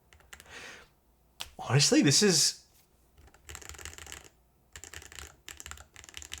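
Rapid clicks of typing on a DS Pixel Pro Hall effect keyboard come in short bursts, close and crisp, with someone speaking briefly between them.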